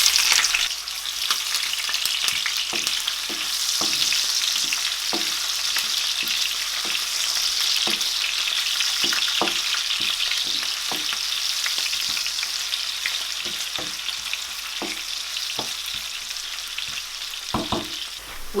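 Onions fry in heated oil with a constant bright sizzle, while repeated soft knocks and scrapes from stirring recur throughout at an even, close pace.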